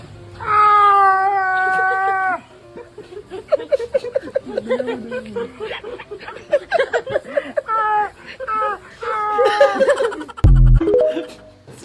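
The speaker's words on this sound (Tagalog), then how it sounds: "tunog ng pusa kapag taglibog?" A cat in heat yowls in long, drawn-out wails, followed by a rapid run of choppy meows, with people laughing and chuckling in the background near the end.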